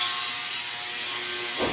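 A 3-litre ultrasonic cleaner running, a loud steady high-pitched buzzing hiss with a faint tonal hum, continuous and close, with a brief low knock near the end.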